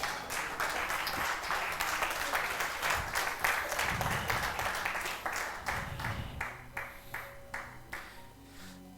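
Church congregation applauding and cheering in praise of Jesus, loud sustained clapping that thins out into a few scattered, slower claps toward the end.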